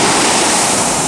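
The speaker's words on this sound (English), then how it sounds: "the waves are at least 25 feet or more here" Huge surf of 25 feet or more pounds at Hawaii's North Shore, a loud, continuous roar of crashing water mixed with wind buffeting the microphone.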